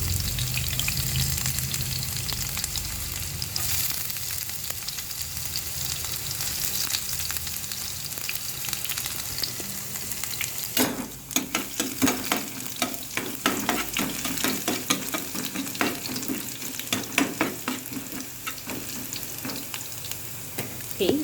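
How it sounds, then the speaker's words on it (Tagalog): Garlic, onion and beef sauté in hot oil for beef broccoli, a continuous loud sizzle with bursts of stirring and scraping in the pan later on, and no talking over it. "Kasi magigisa tayo ng garlic, ng onion, and of course, the beef."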